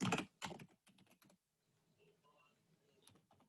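A few quick keystrokes tap on a computer keyboard during a server setup, a short burst at the start followed by sparse faint clicks and quiet hum.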